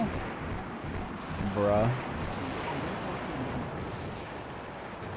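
Booming explosions in the mech combat game Battle Engine Aquila, with a loud burst near the two-second mark and a constant dense rumble of battle noise underneath, while someone talks over it.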